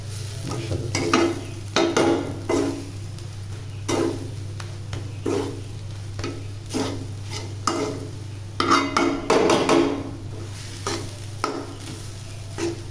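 Leftover rice fries gently in a pan under a steady hum while a spatula scrapes and stirs in repeated bursts, with no talking.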